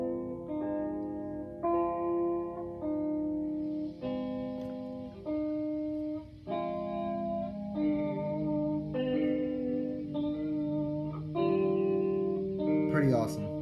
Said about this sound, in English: you got this like low kind of hiss as well on the counterclockwise side